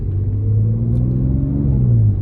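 A stage 2+ tuned B8.5 Audi S5 engine pulls hard after a downshift, a loud, close, continuous rumbling drone that rises steadily in pitch through a steady acceleration, heard from inside the car with no talking.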